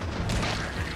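A short, deep boom of an explosion in the video game Resident Evil 3 Remake. It bursts out suddenly and rolls off quickly, with a low rumble.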